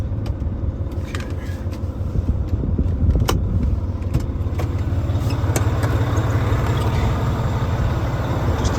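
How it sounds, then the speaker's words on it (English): A 2016 Volvo VNL670 truck with a D13 engine runs at a steady idle with a deep, constant low rumble, heard up close outdoors, with faint clicks and light rattles on top. "let's go out and have a listen to this truck running"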